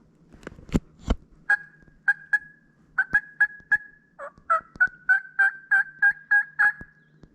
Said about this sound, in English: there he went gobbling one more time